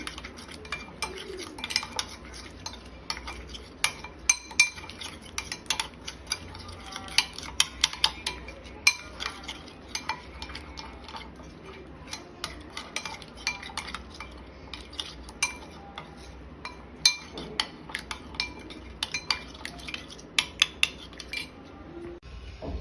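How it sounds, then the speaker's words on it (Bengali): A utensil clinks and scrapes against a bowl while lemon juice is mixed into fish, producing an irregular run of small close taps and scrapes over a quiet background. "আমি লেবুর রস দিয়ে দিচ্ছি এখানে একটু মিক্সড করে নিই"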